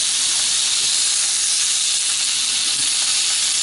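Tuna steak cooking in a pan after a marinade: a steady, loud, dense sizzle and hiss runs unbroken throughout, close up and without any speech.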